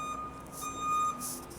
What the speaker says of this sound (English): That's a garbage truck.